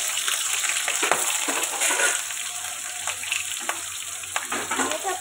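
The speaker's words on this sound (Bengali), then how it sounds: "তেলের মধ্যে কালো জিরে দিয়েছি, আর একটু পেঁয়াজ ফোড়ন দিলাম।" Onion and nigella seeds fry in hot oil for a Bengali-style snake gourd dish, giving a steady close sizzle and crackle with light stirring scrapes throughout.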